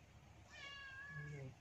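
A cat gives one drawn-out, fairly faint meow while eating stolen dog food outdoors, the call rising then falling near the end over quiet background hiss.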